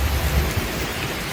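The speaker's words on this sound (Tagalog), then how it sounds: "Kalakas ng ulan" Heavy storm rain pours in a dense continuous hiss with low rumbling, loud and close throughout, with no voices.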